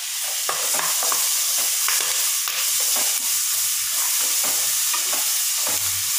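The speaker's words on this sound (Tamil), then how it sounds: "இப்போ வந்து நம்ம பச்சை மிளகாய் சேர்த்து 1 செகண்ட் வதக்கிட்டு வெங்காயத்தை போட்டுக்கலாம்." Green chilli and onions sautéing in hot oil for vegetable biryani, a steady close sizzle and crackle with faint stirring scrapes throughout.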